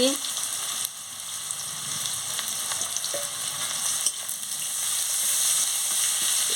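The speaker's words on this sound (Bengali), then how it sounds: "মশলাটাকে আমি ভালো করে ভেজে নিচ্ছি" A spice paste with crushed garlic fries in a pan, giving a loud, continuous sizzle with a bright crackling hiss and occasional stirring scrapes and clicks.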